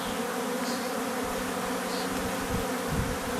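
Buckfast honey bees buzz steadily around beehives, a dense continuous hum of many insects close by with no gaps, persisting evenly throughout.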